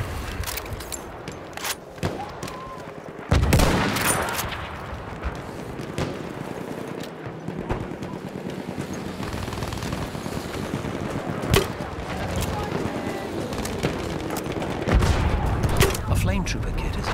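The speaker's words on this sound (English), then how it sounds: "And look, he's got a machine gun." Battlefield 1 conquest on Cape Helles, with bursts of machine gun fire, scattered gunshots and heavy blasts going off near and far, rattling on and off over a constant battlefield din with voices calling out.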